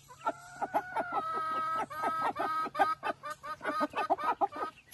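Hens cluck in a dense, overlapping chorus around a laying nest, with a rooster nearby, the calls close and fairly loud with no talking.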